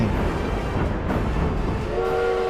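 A train in the city-building game Tropico rumbles along steadily with a continuous rolling din, and a sustained horn tone comes in near the end over the running noise, with no talking.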